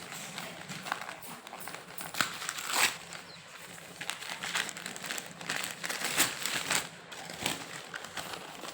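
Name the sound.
parcel bundle packaging being opened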